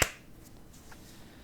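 A single sharp sync clap for a podcast recording, one loud crack right at the start followed by quiet room tone.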